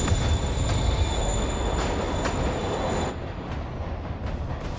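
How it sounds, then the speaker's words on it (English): A moving train rumbles in Marvel's Spider-Man, loud and close with wheel squeals and metallic clanks, then the roar drops partway through. "Train's moving."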